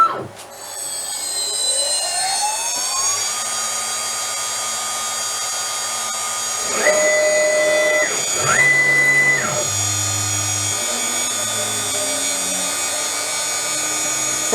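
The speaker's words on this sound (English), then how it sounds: "Right, so there we have the tool path in motion. You can hear the spindle at least probably over and above the feed rate." CNC router spindle running a tool path, a steady high motor whine held throughout, with several clear stepped tones rising and falling partway through as the feed moves.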